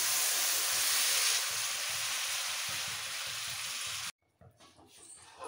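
Water added to a pan of sautéed spices for a thin katla fish curry with cauliflower and potato gives a loud, steady sizzling hiss that holds for about four seconds, then cuts off abruptly, leaving quieter bubbling and faint stirring.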